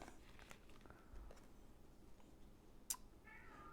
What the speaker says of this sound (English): Oh, we got our first cat meows.